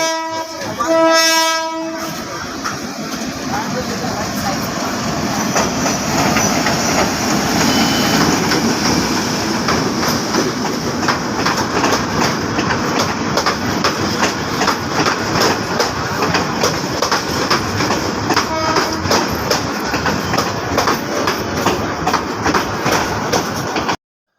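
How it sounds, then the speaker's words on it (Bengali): A train horn blares briefly, then a long train rumbles past with steady clattering wheels for a long stretch, close and loud. "কত বড় ট্রেন রে ভাই দেখতে দেখতে ট্রেন শেষ হইতেছে না"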